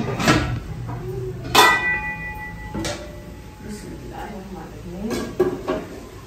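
A metal kadhai set down onto a village stove gives a few sharp clanks and clinks of pots and utensils, close by, with someone talking over the kitchen sounds.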